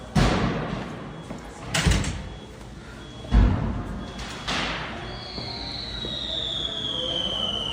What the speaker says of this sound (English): if you listen closely to the vehicle inside of the lobby, you can actually hear the fireworks being set off